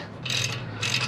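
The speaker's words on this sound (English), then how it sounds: "Take my ratchet." A hand ratchet clicks in two quick bursts, close and crisp, while loosening a bolt on a Lectric e-bike brake.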